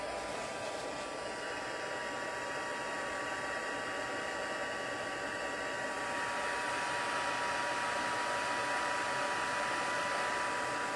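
Heat tool melting embossing powder on a handmade card, a steady loud blowing whir close to the microphone, running alone and unbroken for the whole stretch.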